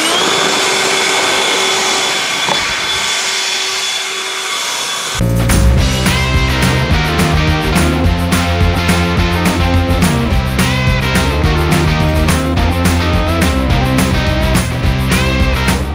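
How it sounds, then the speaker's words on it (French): A leaf blower runs in turbo mode while clearing garden beds, starting abruptly after a quieter stretch and then roaring loud and steady to the end, with a constant rough whine and no talking. "la puissance du souffleur, c'est vraiment remarquable"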